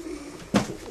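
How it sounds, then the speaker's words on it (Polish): A single soft coo from a speckled racing pigeon, nearby, over quiet background hum. "to jest ten gołąb, który przyleciał z lotu"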